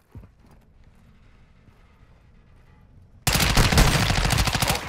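Rapid automatic gunfire erupts suddenly and loudly in a Call of Duty DMZ night match, a dense burst of sustained shots following several seconds of quiet ambient game noise with faint distant pops.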